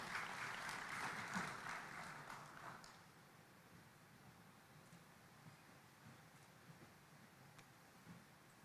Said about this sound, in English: Let's give him a round of applause and welcome to the stage.